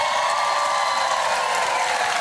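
A studio audience on a live daytime talk show cheers and whoops steadily, a dense, loud wash of crowd noise that holds evenly throughout.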